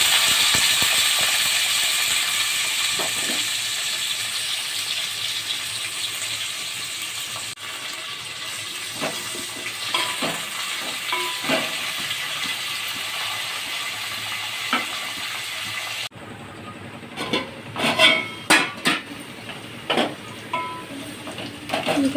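Onion and curry leaves frying in oil alongside cumin and garlic for a meal maker tomato curry, giving a steady close hiss with scattered crackles and pops, the sizzle briefly dropping and turning sharper partway through.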